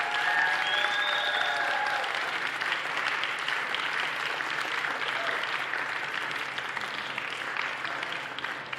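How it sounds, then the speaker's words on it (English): An audience applauds candidates at a student government debate, with dense, even clapping that fills the room and holds steady throughout. "would you please give our candidates a round of applause?"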